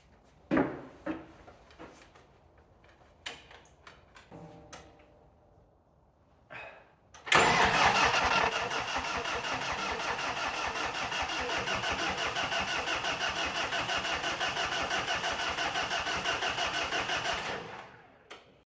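An old diesel dumper's engine cranks and fires after some faint clatter and knocks, then runs at a steady, fairly loud idle for about ten seconds before cutting off abruptly.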